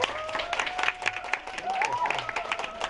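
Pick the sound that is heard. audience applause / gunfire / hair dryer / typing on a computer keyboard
audience applause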